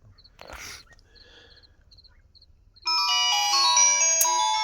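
A mobile phone ringtone in a village in Sindh, a bright electronic melody that bursts in loudly partway through after quieter chirping and scattered noises.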